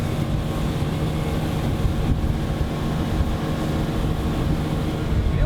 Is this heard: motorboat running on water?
yes